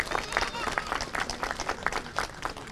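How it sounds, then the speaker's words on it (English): A crowd at a township Ramadan lighting ceremony in East Brunswick claps in moderate applause, a scattered and uneven patter of hands heard from the middle distance, with some voices mixed in. "So please give a round of applause to our town."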